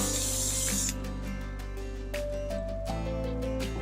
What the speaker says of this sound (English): Now again, I use 505 spray just to help me keep it a little bit in place.